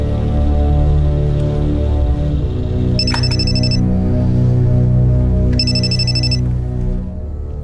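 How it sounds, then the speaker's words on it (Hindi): A telephone rings twice in short bright bursts over a dense, loud bed of dramatic background music. "आ रहा है फोन"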